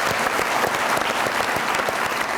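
Studio audience on a comedy talk show claps loudly and continuously, a dense, even burst of applause with no talk over it.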